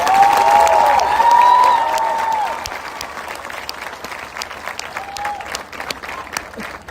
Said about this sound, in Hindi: लेफ्ट से राइट तक सारे हाथ मुझे तालियां दे दे